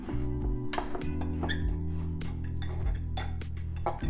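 Couscous being mixed with jarred pepper in a bowl, a run of scraping and squeaky clinks from the utensil against the bowl, close and steady over a low background hum.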